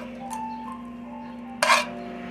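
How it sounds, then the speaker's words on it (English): Kitchen utensils clink against a pan while steak is ladled out, with a faint early tap and one brief bright metallic scrape near the end over a steady background hum. "I'm gonna ladle some of that steak."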